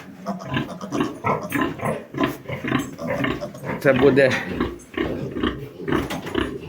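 Pigs in a farm pen grunt and snuffle around a heat lamp, close and irregular, mixed in with a person talking over them.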